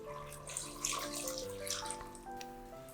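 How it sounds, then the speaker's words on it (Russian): Cold tap water pouring into a pot over cut potatoes, a steady close splashing stream with droplets and changing tone as the pot fills, with soft background music. "Заливаю картошку холодной водой, так чтобы вода полностью покрыла картофель."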